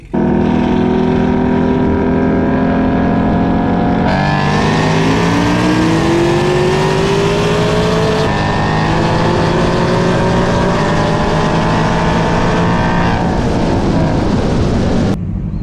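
A Camaro ZL1 1LE with headers and a tune roars at high revs, climbing through the gears with sharp shifts as it accelerates hard.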